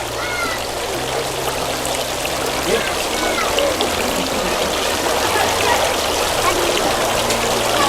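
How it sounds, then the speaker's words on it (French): Water streams and splashes steadily while something is rinsed, a close, continuous pour with a faint voice in the background. "Je suis en train de rincer ça."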